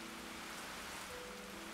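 Steady rain pattering in the blocky video game Minecraft, a soft continuous hiss of falling drops with a faint low hum underneath and a brief click near the end.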